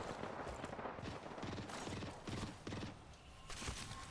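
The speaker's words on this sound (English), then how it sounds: "I hear him shooting." Enemy gunfire in an online shooter game, a cluster of rapid bursts popping at moderate distance with uneven rhythm, faint overall and without talk.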